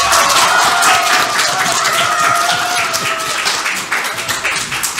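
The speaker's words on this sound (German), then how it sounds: "gerne auch nochmal mit einem tobenden Applaus" Loud, dense applause from an audience welcoming children's author Ulrich Hub onstage at a book event, a steady wash of many hands clapping that holds for the full stretch and eases only slightly near the end.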